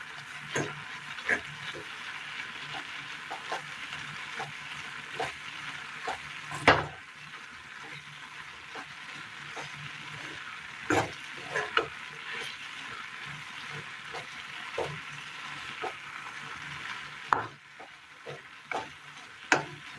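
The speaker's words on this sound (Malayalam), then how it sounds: "മുരിങ്ങയില കഴുകിയെടുത്തത്, ചീര ഒന്ന് മിക്സ് ചെയ്തെടുക്കാം" Moringa leaves and spinach sizzle quietly in a pan while a spoon scrapes and stirs, with occasional sharper knocks against the metal.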